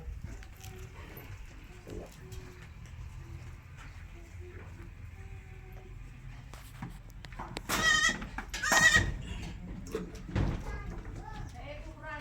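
Someone talks steadily, then a brown-and-chocolate coloured nanny goat bleats loudly twice in quick succession near the end, followed by a softer bleat.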